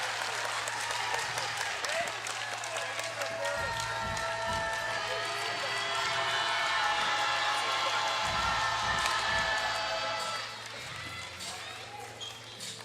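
Dense arena crowd noise at a FIBA 3x3 World Tour basketball game in Utsunomiya, a steady roar with applause and cheering sustained throughout, dipping slightly near the end, under a commentator's voice.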